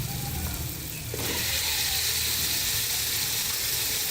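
Eggplant drops into a pan of hot cooked spice masala for aloo baingan, and after a brief quieter moment a loud, steady sizzle and hiss takes over and continues.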